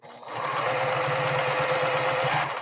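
A sewing machine stitching a strip piece onto a crumb quilt block, running in one steady, close, continuous whirring burst after a brief start.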